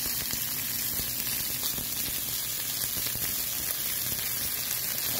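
Barbecue chicken wings sizzle on a grill, a steady close hiss and crackle of fat that carries on without a break and with no talking.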